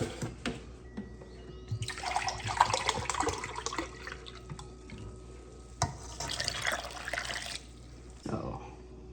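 Apple cider vinegar poured from a container for a corn relish, a steady liquid splash in two bursts with a short pause between, close by and moderately loud.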